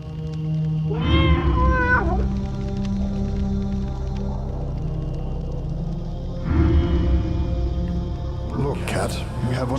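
A cat in the dark fantasy video game Tormentum gives two drawn-out, wavering meows several seconds apart over a low ambient drone, with a shorter rising cry near the end.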